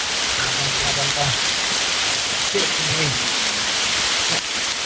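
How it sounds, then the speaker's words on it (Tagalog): Steady, dense rain hiss fills the whole stretch, loud and close, with people talking now and then underneath it. "malakas yung ulan"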